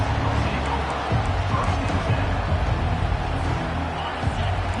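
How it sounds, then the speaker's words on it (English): A steady, loud stadium crowd roar from the NCAA 25 college football video game, a continuous wash of cheering and babble with no clear breaks. "Listen to the crowd energy here in the early going."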